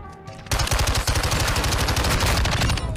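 Rapid automatic gunfire from a Modern Warfare 2 match, close and loud, erupting as dense sustained bursts after a brief quieter lead-in.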